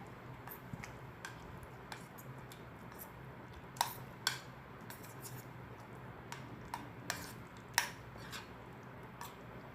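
Schezwan Maggi noodles are being mixed with sauce, with soft scraping and scattered light clicks of a utensil against a bowl, faint and irregular, plus a few sharper taps, all without talk.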